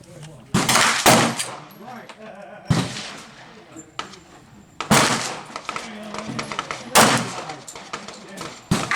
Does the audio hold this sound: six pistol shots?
yes